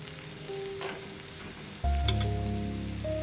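Chopped onion sautéing in a pan over a medium-high gas flame, a steady soft sizzle and crackle that swells louder partway through, with a faint hum underneath and no talking.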